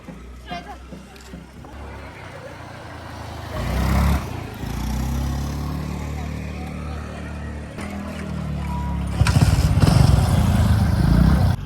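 A Vikrant motorcycle is ridden along a road, its engine a low, steady drone with wind rush that swells in places, while people talk over it.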